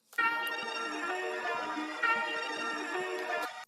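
A sustained, shimmering trap sample processed with crystallizer and delay effects in FL Studio, glassy, bright overtones and echoing tails, playing steadily for a few seconds with no voices.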